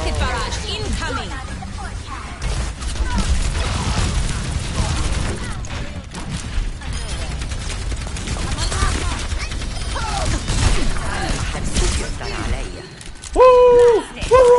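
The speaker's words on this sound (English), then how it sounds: "Rocket barrage incoming!" A rocket barrage in a first-person hero shooter unleashes a dense, continuous stream of crackling explosions and impacts, loud and close, with game voices and chatter mixed in throughout.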